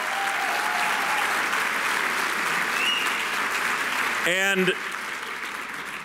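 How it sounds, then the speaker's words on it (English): An audience at a United Teachers Los Angeles gathering gives its union staff a round of applause, steady and dense throughout, with a voice briefly cutting in near the end. "Let's give them a nice round of applause again"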